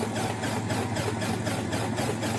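Piper PA28 Arrow aircraft engine cranking on the ground before start, a steady rumbling drone with a faint rhythmic pulsing, fairly close and moderately loud, with no speech.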